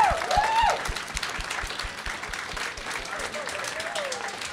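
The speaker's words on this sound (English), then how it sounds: "let's give the last round of applause to all of these wonderful participants and the crew who organized it" Applause from an audience thanking participants and event crew at a youth talk, a steady wash of clapping with a person speaking over it near the start.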